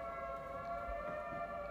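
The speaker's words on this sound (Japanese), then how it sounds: "外も めっちゃサイレン鳴ってる。" An outdoor siren wails faintly at a distance, a sustained steady tone held without a break.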